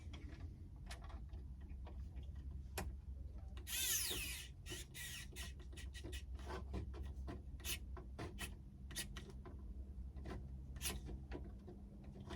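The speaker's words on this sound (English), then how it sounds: "Love this screwdriver, I'm loving it already." A screwdriver working on an INJORA model body for a Camel Trophy build, giving a long series of small, sharp ticking clicks at an uneven pace, close and fairly quiet, with one brief rustling burst partway through and no talking.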